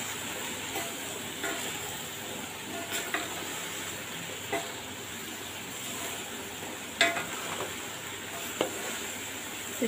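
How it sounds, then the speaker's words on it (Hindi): Peas being stirred into mixed vegetables in a pan for a mixed vegetable sabzi, a steady soft sizzle with scraping spoon strokes and occasional light clinks against the pan. "अब मैं ये मटर भी इसी में डाल दूँगी और इसको अच्छे से मिक्स कर लूँगी"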